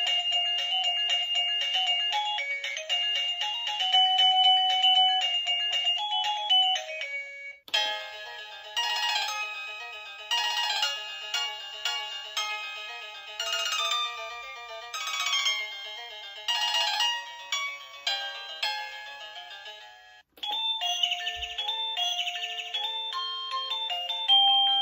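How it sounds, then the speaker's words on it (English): An electronic home doorbell cycles through several bright, tinkling chime melodies, one tune after another with short pauses between them, clear and close with no talking. "I discovered that my doorbell has more than two songs on it."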